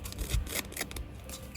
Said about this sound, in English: rough up the edges of this ticket piece here with my scissors